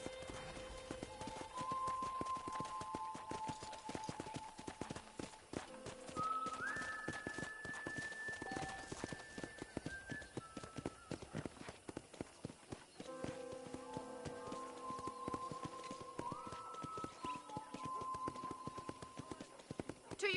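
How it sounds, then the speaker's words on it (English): Horse hooves clip-clop steadily in Red Dead Redemption as a rider trots around a ranch, a rhythmic patter of hoofbeats under a soft musical score with sustained tones. "let's see if you can still ride a horse"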